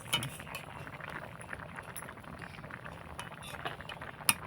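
Potatoes boil in a pot on a kitchen stove with a soft, steady bubbling and burbling. A few faint metallic clinks and one sharper tap near the end sound over the low simmer, and nobody speaks.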